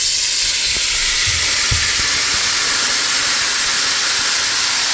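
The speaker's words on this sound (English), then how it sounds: "So this oil is very hot, and I'm going to add the beef." Thin strips of beef hit very hot oil for a beef and vegetable lo mein, setting off a loud, steady, hissing sizzle that fills the whole stretch, close up.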